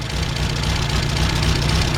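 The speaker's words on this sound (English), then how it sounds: "You can hear the little engine running great." A 1961 Morris Mini MK1 engine idles with a steady, low, throbbing rumble that sounds slightly uneven and a little rough, loud and close with no talking.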